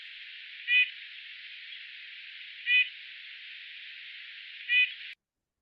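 A nuthatch gives three short, harsh nasal calls spaced about two seconds apart, a response to a large owl posing little threat. The calls sit over a steady band of hiss with no other sounds.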